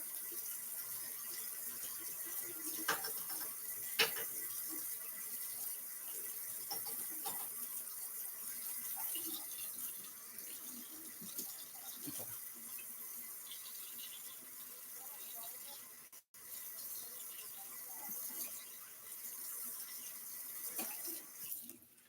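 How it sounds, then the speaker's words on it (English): Hot water runs steadily from a kitchen sink tap in a steady wash of hiss and splash, with small clinks and handling noises over it. "To rinse it off the butter, you need that hot water."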